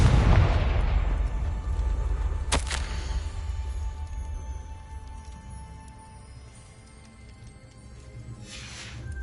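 Confringo blasting spell explosion in the Hogwarts Legacy video game, a deep booming burst that rumbles and fades over several seconds, with a sharp crack partway through and a brief whoosh near the end.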